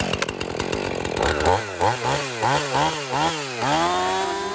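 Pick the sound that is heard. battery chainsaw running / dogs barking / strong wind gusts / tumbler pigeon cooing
battery chainsaw running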